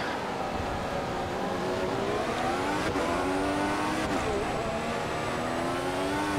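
A Formula 1 race car engine from the game F1 2014 at Malaysia screams at high revs, loud and continuous, with rising and falling pitch through gear changes.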